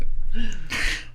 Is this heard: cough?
yes